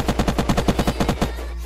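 Rapid automatic gunfire in the survival video game Unturned, a single close burst of about a dozen evenly spaced shots lasting just over a second, followed by a short ringing tail.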